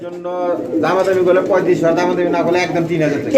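Pigeons, including a female in a breeding pair, coo in low, rolling calls, overlapping continuously and close by, with a voice talking over them.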